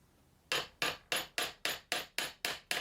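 Eight sharp metallic strikes of a small hammer on an anvil, evenly spaced in a steady rhythm, close and ringing briefly after each hit.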